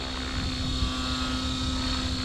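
Align T-Rex 550X RC helicopter held at 70% throttle, a steady close whine with a strong constant tone and rotor drone, continuous and even throughout, no talking.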